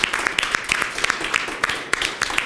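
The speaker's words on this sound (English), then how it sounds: "Round of applause for Jackson." A live audience gives a round of applause for a person called up on stage, brisk close clapping with distinct sharp hand strikes over a continuous wash of hands.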